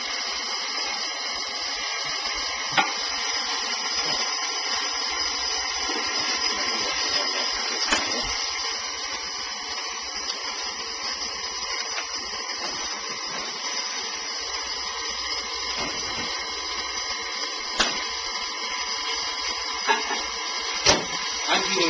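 An electric mixer kneads piroshki dough with a steady, fairly loud motor whir that runs unbroken throughout, marked by a few faint clicks and knocks.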